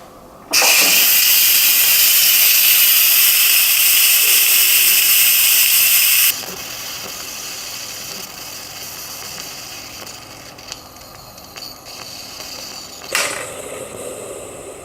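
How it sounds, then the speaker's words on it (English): Instant Pot pressure release valve venting steam after natural release: a sudden loud, steady hiss for about six seconds, then a quieter continuing hiss with a brief burst near the end. "we're just going to turn the pressure thing and let it all release now"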